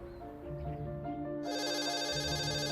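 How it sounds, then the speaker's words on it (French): Telephone ringing with a sustained electronic ring that turns brighter and louder halfway through, set against soft musical tones. "Notre histoire commence par un coup de téléphone."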